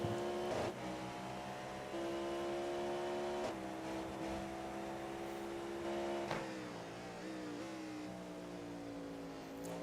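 A racing car engine in the iRacing video game roars steadily near and loud, its pitch rising and dipping as it revs and shifts gears, with no talking.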